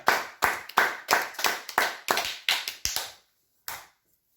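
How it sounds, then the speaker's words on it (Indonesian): A congregation claps at a home worship service, about nine or ten distinct rhythmic claps in steady succession, close and fairly loud, then a pause and one final clap. "Tepuk tangan untuk Dia."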